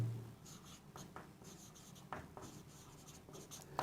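Pen or pencil writing on paper as names of subsidiary accounting books are written out, soft scratchy strokes in short bursts, close and quiet, with no talk.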